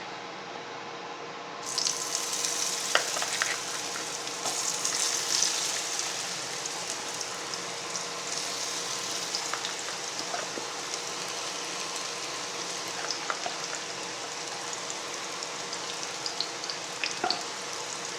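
Plantain pieces for crispy vazhakkai 65 hit hot oil after a quiet moment, then deep-fry with a loud, dense, continuous bubbling sizzle and scattered crackles for the rest of the clip.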